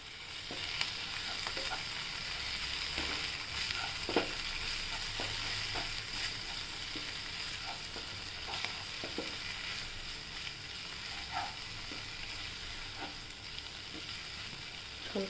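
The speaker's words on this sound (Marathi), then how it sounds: "धणे हळद पावडर टाकून परतून घेऊया" Spinach sautéing in a pan with coriander powder and turmeric for lasuni palak, a steady close sizzle and crackle with scattered stirring clicks and scrapes throughout.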